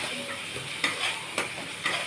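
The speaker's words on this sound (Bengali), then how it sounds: "দেখুন মশলাটা কি সুন্দর ভাজা হচ্ছে।" Spices frying for doi chingri (prawns in yogurt) in a pan, a soft continuous sizzle with a few sharp scraping stirs, close and without talk.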